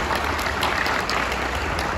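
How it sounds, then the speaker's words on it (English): Audience applause at an Alpha fraternity honoring event, a steady wash of clapping from a crowd, moderately loud and continuous with no speech over it. "You should give yourselves a round of applause."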